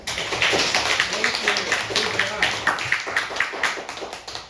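A Grade 4 classroom audience claps after a Chuseok speech contest entry, a steady run of close, fairly loud hand claps lasting several seconds, with voices mixed in.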